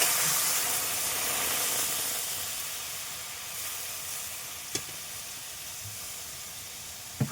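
Water poured into a hot pan of cooked mango sends up a loud broadband hiss of steam that slowly fades, with a couple of sharp clinks near the end.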